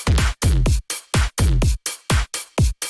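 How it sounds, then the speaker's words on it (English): Soloed electronic drums from a drop remake: a punchy four-on-the-floor kick with a thudding bass hit, repeating in tight, loud, evenly spaced pulses with brief gaps between them. "The drums. I'm gonna go ahead and solo those out."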